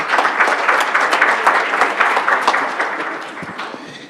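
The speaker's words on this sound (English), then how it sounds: "Let's give him another round of applause." A room full of attendees at a Rochester Board of Education business meeting claps loudly after the Pledge of Allegiance, a dense, even burst of applause that holds for about four seconds and then starts to fade.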